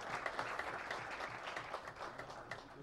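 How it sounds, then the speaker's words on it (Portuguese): A party caucus meeting breaks into applause for leader João Almeida, a dense, even round of many hands clapping at moderate volume, with no voices over it. "dessem uma grande salva de palmas ao nosso líder João Almeida"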